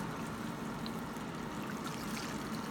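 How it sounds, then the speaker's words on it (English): Tap water runs steadily into a pot for veggie broth: a faint, continuous, even rush with no voices. "I'm going to take some water, and I'm going to fill it"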